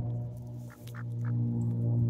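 Pet chicken clucking near a constant low hum, a few short soft calls in quick succession around the middle of the stretch.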